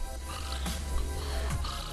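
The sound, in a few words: voice imitating snoring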